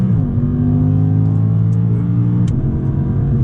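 A 2019 Audi R8 pulling onto a racetrack, its engine giving a steady, close, loud drone that shifts pitch briefly near the end, with no talking over it.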